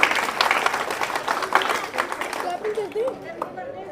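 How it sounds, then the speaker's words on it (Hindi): A crowd claps at a street welcome for Sunita Duggal in Agrawal Colony, Ratia, a quick patter of hands that fades as someone speaks loudly over it. "फिर से ताली बजा दे बेटा, ताली बजा दे बेटा, ताली बजाओ सारे"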